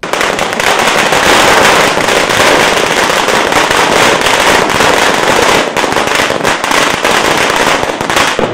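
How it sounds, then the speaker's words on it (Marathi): Firecrackers burst in a dense, loud, unbroken crackle at a welcome reception for a minister in Solapur, the rapid pops running without pause and no speech heard. "सहकार मंत्री सुभाष देशमुख यांचं आगमन होताच मतदारांनी फटाक्यांच्या आतषबाजीत आणि हलगीच्या निनादात सहकार मंत्र्यांचं जंगी स्वागत केलं."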